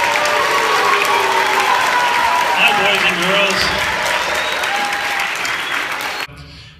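An audience at a school band event claps in sustained, loud applause that fills the space, with scattered cheers and a voice greeting the children over it before it cuts off abruptly.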